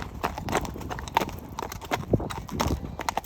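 A horse shifts about in a stable at an equine event, its hooves clopping irregularly on the floor, close and fairly loud, with faint voices and rustling in the background.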